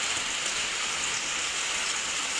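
Heavy rain pours outside a house, a dense, even hiss of drops with no pauses and no voices.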